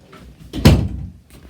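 A door swings shut with a single short thud in a quiet room, preceded by faint rustling.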